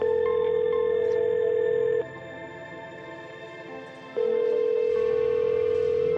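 A telephone rings in steady electronic bursts with no one picking up; one long tone, a pause, then the ringing starts again.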